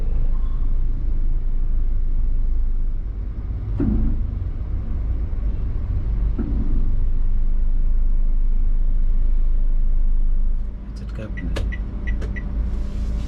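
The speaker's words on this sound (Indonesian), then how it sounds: "Banyak mobil." Night traffic in Batam near BCS Mall, a constant heavy rumble of many cars and buses with a couple of vehicles swelling past, then a few brief higher clinks near the end.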